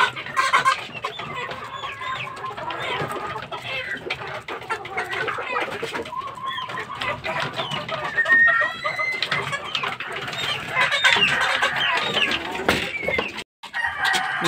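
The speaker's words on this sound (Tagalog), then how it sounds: "mga inahin din to" Hens clucking and calling among other fowl, with a rooster and pigeons audible, a busy continuous chorus of clucks and squawks close by.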